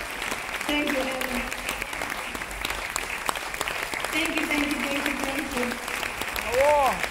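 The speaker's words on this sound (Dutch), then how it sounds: "Dus een heel hartelijk applaus voor deze grootheid in de Curaçaose jazzwereld." Audience at a Curaçao jazz festival applauding an organiser, sustained close clapping from a crowd with voices speaking over it.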